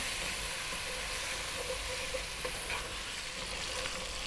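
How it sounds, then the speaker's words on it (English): Flour cooking on a lively heat in a hot pan for beef stew, kept moving constantly, giving a steady, dense sizzle with soft scraping from the stirring, close and continuous. "We're gonna cook this flour for another 4 to 5 minutes."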